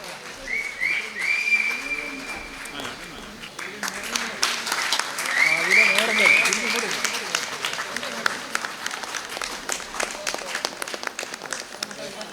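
An audience at an Onam celebration honouring ceremony claps steadily, the applause building and staying busy. A voice speaks over the first part, and a few sharp whistle-like chirps cut through.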